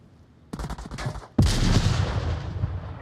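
Gunfire in a competitive shooter game: a rapid burst of shots followed by a louder, heavier blast that rolls on and slowly fades, with no talk over it.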